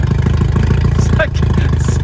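Rough, uneven idle of a VW MK2 Scirocco 16v engine running with no exhaust fitted, a loud steady low throb with a pulsing beat, close up and continuous, with a brief dip near the middle.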